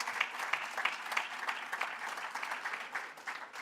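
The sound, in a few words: applause at sports awards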